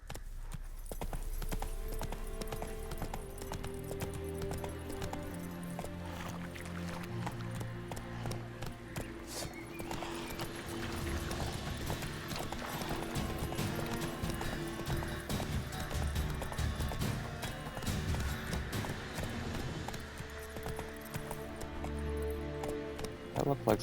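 In The Witcher 3, a horse gallops with continuous rhythmic hoof clip-clops, plus occasional whinnies, over a layer of game music and ambience, lasting throughout without talk.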